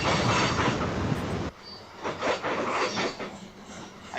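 A freight train carrying scrap loads and hopper cars rolls past trackside, with loud rumbling and clattering wheels that drop to a lighter, rhythmic clickety-clack partway through.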